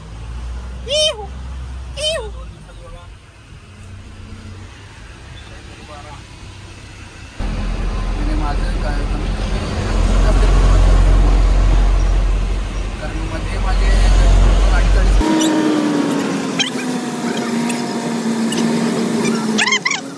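A car on the road, a close engine and tyre rumble that swells in the middle section under traffic noise, with people talking throughout and a dog or cat heard briefly at the start.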